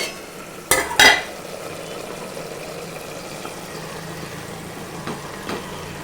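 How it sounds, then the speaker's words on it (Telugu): Bagara rice cooks in a pot while being stirred, giving a couple of sharp scraping strokes early on and then a few faint later touches over a low, steady simmering hiss. "మెల్లగా కలుపుకోవాలి."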